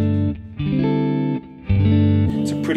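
A clean electric Ibanez AZ guitar through a Fender Twin-type sound and a Laney speaker plays sustained chords, notes ringing out with delay repeats and a wash of reverb behind them.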